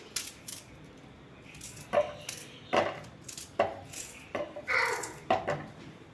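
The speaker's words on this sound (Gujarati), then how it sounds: "ચોપરની અંદર આપણે મોટી મોટી ડુંગળી કટ કરી લઈશું" Large onions cut in a food chopper for aloo paratha, with about half a dozen distinct chopping thuds and clacks at an uneven rhythm, close and moderately loud against a quiet background.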